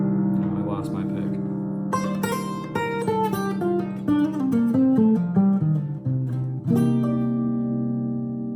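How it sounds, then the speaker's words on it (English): Guitar chords move through a tune's changes using tritone substitutions, ringing steadily and close up with shifting harmonies and a few single-note runs, heard alone with no talking. "So there it is, the sound of tritone substitution"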